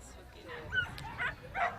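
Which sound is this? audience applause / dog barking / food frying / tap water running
dog barking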